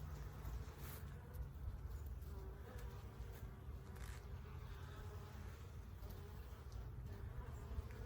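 Honey bees swarm around a heavy, capped frame lifted from a hive, filling the air with a dense, continuous low buzz and occasional louder passes of individual bees close by.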